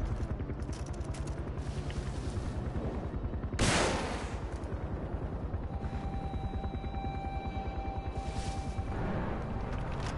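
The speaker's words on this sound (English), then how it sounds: "The perfect place to test out the new rocket launcher." A rocket launcher fires in the Far Cry video game, one sharp loud blast cutting through a steady rattle of rapid gunfire, with a faint whining tone lingering afterward.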